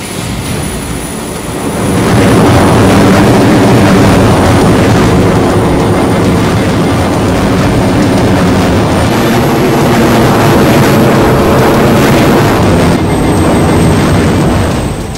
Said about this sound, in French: Voir Lexi décoller